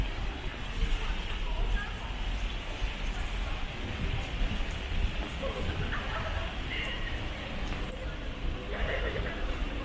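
Steady rain patters down in a dense, continuous wash of noise on a walk in Hong Kong, with faint background sounds and no clear speech.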